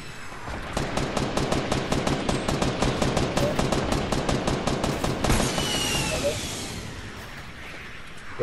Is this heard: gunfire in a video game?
yes